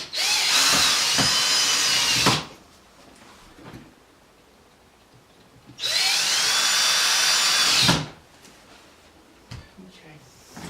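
A power drill driving screws into a home server case whirs loudly in two sustained bursts of about two seconds each, separated by quiet pauses with faint handling sounds.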